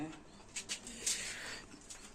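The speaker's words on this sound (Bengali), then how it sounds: "এই একটা আমার মালবাই পায়রা, মালবাই ডিমে বসে আছে" Pigeons in a loft, one sitting on eggs, give faint low cooing calls in a quiet space, with soft voices murmuring in the background.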